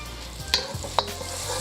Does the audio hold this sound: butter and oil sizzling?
yes